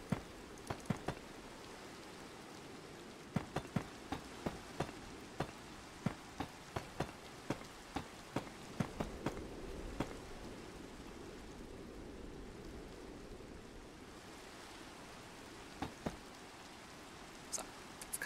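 Steady rain falls in the Minecraft video game: a soft, continuous hiss scattered with sharp, close drop taps throughout, with no talking.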